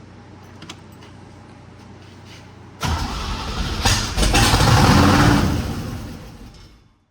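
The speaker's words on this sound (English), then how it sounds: "and then crank it over, and actually it should fire right up" A 1963 Corvette with stale gas cranks briefly, then fires and revs up loud and close, settling into a high idle before the sound cuts off.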